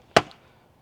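A single sharp, close thunk of a short-handled vintage axe biting into wood, then quiet.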